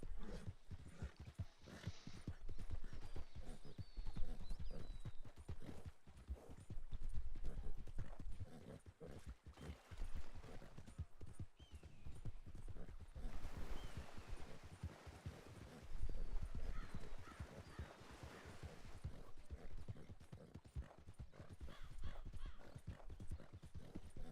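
Horse hooves clip-clop in a video game, with steady rhythmic steps that come and go in bursts over half a minute, fairly close and loud, with brief pauses between stretches.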